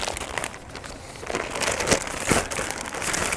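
A SOL sport utility survival blanket, Mylar on one side with an orange outer face, unfolded close by with continuous crinkling and rustling that swells in brief louder crackles, no talking.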